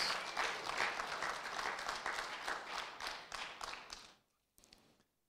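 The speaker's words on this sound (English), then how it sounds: "Come on, clap somebody." A church congregation applauds during a sermon, dense sustained clapping that fades out after about four seconds, followed by a few scattered claps.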